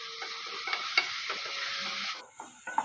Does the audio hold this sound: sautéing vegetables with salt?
yes